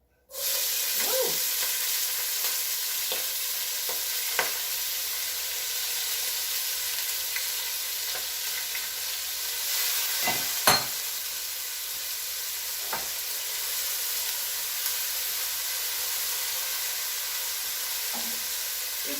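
Chopped onions hit hot oil with dried herbs in a pan for a Greek spinach pie, giving a steady, close, bright sizzle. Scattered scrapes and clicks from stirring sound throughout, with one sharper knock midway and no talking.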